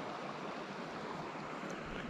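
Creek water rushes steadily in the High Uintas Wilderness, a continuous broadband wash with no pauses, fairly close and moderately loud, with no voices over it.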